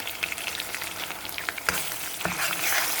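Ginger garlic paste sizzles and fries in hot oil with mustard seeds, fenugreek, onions and green chillies for an egg curry tempering, a crackling, spitting fry with stirring noises that grows busier toward the end.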